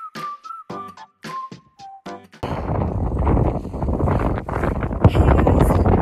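Strong wind at Yamdrok Yumtso Lake in high-altitude Tibet buffets the microphone with a loud, steady roar after a brief opening of whistled tones, the gusts continuing to the end.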